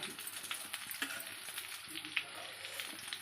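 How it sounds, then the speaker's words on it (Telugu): Fish fried in a pan with masala, a close, steady sizzle and crackle of hot oil with small pops and occasional turning sounds, no speech. "చూడండి, నేను తిప్పుకుంటా కాల్చుకుంటా ఉన్నానండి. బాగా ఇలాగా ఫ్రై అయిపోయినాయి."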